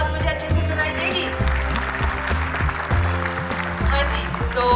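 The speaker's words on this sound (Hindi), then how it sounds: "एक बार आपकी तालियों की आवाज मुझे अच्छे से सुनाई देगी?" A crowd claps steadily for several seconds at a talk in Chandigarh, a dense patter of applause in a room, with a voice faintly under it.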